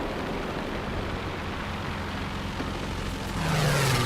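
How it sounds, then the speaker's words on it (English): An airplane flies overhead in a wartime battlefield video game: a steady broad rumble that swells near the end as the plane sweeps past with a falling drone. "I hear a plane."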